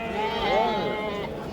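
A ram bleats at a livestock market, one wavering drawn-out bleat heard close amid background crowd chatter.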